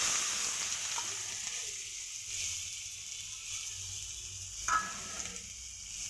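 Chopped small onions frying in hot oil while making veg momos, giving a steady, fairly soft hiss and crackle that runs throughout, with a brief louder sputter near the end.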